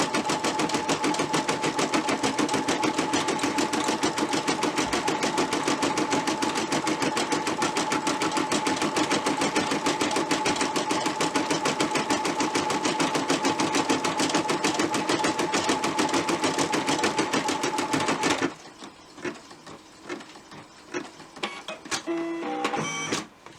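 An embroidery machine stitches a gingerbread ornament with a loud, rapid, continuous mechanical whir and a fast needle rhythm. After about eighteen seconds it stops, and softer clicks and handling noises follow.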